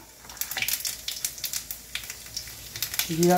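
Cumin seeds sizzle and crackle in hot mustard oil in a pan, a close, steady frying hiss broken by small irregular pops, with a brief low tone near the end.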